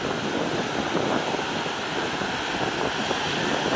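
Heavy surf breaking hard off Okinawa's Sunabe coast during a typhoon, a steady roaring wash of broadband water noise with wind buffeting the microphone, loud and continuous with no talk.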